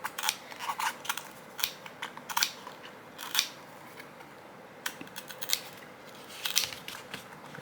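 Tin snips cutting sheet metal while preparing air-conditioner cleaning gear, a run of sharp metallic snips and crunches in irregular bursts, close and moderately loud with no talking.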